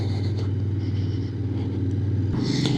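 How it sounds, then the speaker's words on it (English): A Royal Enfield Continental GT motorcycle's parallel-twin engine runs steadily with a low, throbbing rumble that shifts in tone near the end, close and fairly loud, with no voices. "Engine actually sounds really nice"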